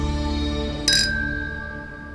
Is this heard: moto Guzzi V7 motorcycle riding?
no